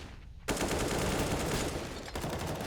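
Rapid automatic gunfire on the A site of Mirage in Counter-Strike during a FaZe versus G2 pro match, a dense sustained burst after a brief quiet start, with a short dip near the end before firing resumes.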